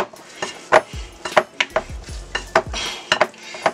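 A spatula or spoon knocks and scrapes against a bowl while mixing chicken dumpling dough, producing close, irregular clinks and thuds at a brisk, uneven rhythm.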